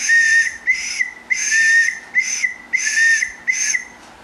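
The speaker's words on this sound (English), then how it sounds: "A simple distress call for whistles, like a one long beep and one short beep like this." A survival whistle blown as a distress signal in repeating long-then-short blasts, shrill and loud at close range, six bursts with brief gaps between them and no talking.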